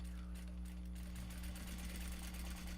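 A sewing machine runs steadily while stitching a Japanese fabric bag, a continuous close whirring hum with a rapid needle rhythm.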